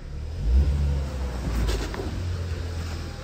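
A 2017 Ford Fusion 2.0-liter turbo with an automatic transmission, front-wheel drive and 87,000 miles revs its engine up and holds it steady, a loud, close engine drone with no voices.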